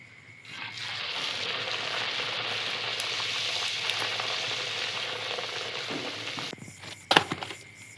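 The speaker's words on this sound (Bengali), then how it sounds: "আমার লুচি ভাজা শেষ" Luchi, puffed flatbread, frying in hot oil: a steady, close sizzle and bubbling that holds for several seconds, then a few sharp clinks and stirs near the end.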